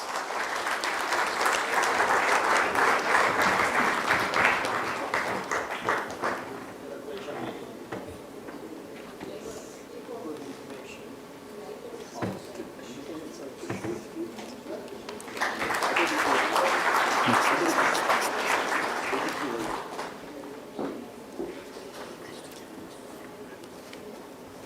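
Audience applause fills a conference hall at an awards ceremony in Bangalore, two loud bursts of sustained clapping separated by a quieter stretch of scattered claps and murmuring voices.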